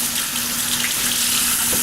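Water runs from a kitchen tap in a steady, close, hissing stream with no pauses and no voices.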